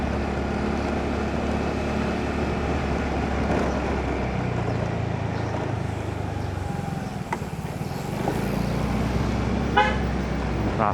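Busy road traffic rumbles steadily around a vehicle on a one-way street, engines droning close by, with a brief car horn toot near the end.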